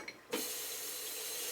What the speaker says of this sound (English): I give my glass a quick cold water rinse